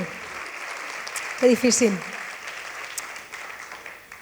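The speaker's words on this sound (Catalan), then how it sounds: "Aplaudiments, sí, per als productors" An audience claps steadily at a live album presentation concert, a continuous wash of applause that a brief spoken exclamation interrupts partway through.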